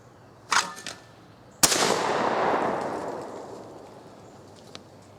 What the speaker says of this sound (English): What a good shooting old gun.